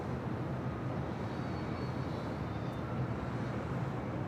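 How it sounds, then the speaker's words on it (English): Heavy jet airliner taking off from runway 24 left at LAX, a steady broad engine roar held at even loudness throughout, distant rather than close, with no voices. "American 943 Heavy will depart the parallel runway, caution, wait turbulence"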